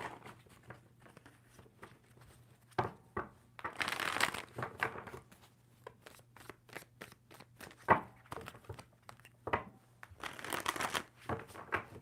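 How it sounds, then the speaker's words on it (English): Tarot cards are shuffled in several quick riffling bursts separated by pauses, close and fairly quiet, with soft handling noises between. "Two more shuffles for Capricorn."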